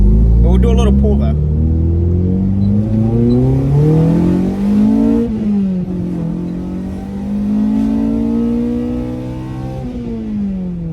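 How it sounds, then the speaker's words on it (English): A K-swapped Honda engine in a Civic revs up loudly and close, pitch climbing in several rising pulls, then dropping back before climbing again. "It revs pretty high though."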